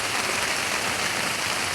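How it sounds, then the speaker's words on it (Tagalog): Heavy rain pours down in a steady, loud, broadband hiss with no breaks, close and constant throughout. "O heavy rain. In the heavy rain."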